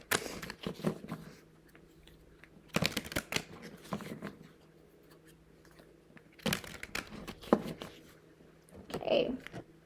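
A Lenormand card deck is given a few ruffle shuffles at close range: three or four brisk riffling bursts separated by quieter pauses of soft handling, with no talking.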